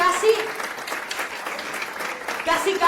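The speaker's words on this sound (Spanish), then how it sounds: "esto se merece un aplauso" Audience applause at a business and science colloquium, a steady dense patter of many hands held at moderate level for the full stretch, with some faint background voices mixed in.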